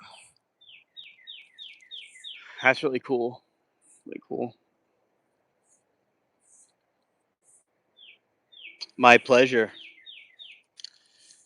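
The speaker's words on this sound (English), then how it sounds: "And now the birds are starting to come out." Small birds chirp in a garden in quick repeated series of high, descending tweets, moderately near, with pauses between bursts while a person talks briefly twice over them.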